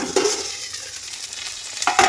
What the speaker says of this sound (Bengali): আর এইখানে বসিয়ে দিয়েছি উচ্ছে ভাজা